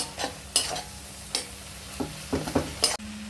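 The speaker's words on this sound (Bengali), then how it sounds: "আমি আরেকটু লঙ্কা গুঁড়োটা দিয়ে ভাজবো টমেটোগুলো একদম আমি গলিয়ে দেবো" Tomatoes fry with chili powder in a pan for a Bengali hilsa fish oil-and-chili curry, sizzling steadily while a spatula scrapes and stirs in about eight sharp, close strokes over a low hum.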